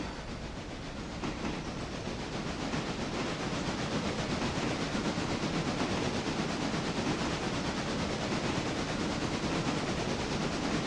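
A log train rolls on in the Railroader rail game, with a steady, dense rumble and faint wheel clatter and hiss that hold an even level throughout.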